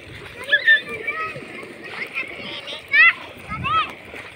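Children bathing in a river shout and squeal at a distance while water splashes faintly around them, with an adult talking nearby.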